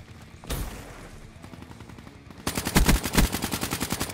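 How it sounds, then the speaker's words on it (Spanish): Bursts of gunfire in Call of Duty: Black Ops 3 multiplayer: a single loud shot, scattered distant pops, then rapid automatic fire that rattles on loudly to the end. "Escucho balazos por allá."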